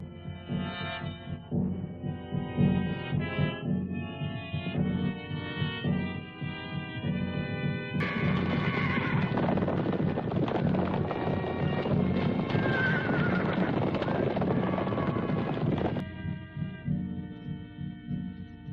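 Horses neigh and whinny while hooves clip-clop, set under a loud orchestral film score that swells midway and stays dense and sustained throughout, with no talk.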